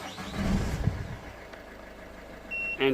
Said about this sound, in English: now if I start the engine